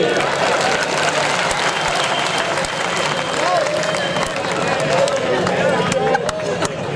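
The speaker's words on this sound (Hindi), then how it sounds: "ताली बजाइए।" Dense, loud applause from a comedy show audience fills the whole stretch, a steady wash of many clapping hands with crowd noise and cheers mixed in.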